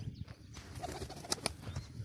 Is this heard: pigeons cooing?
yes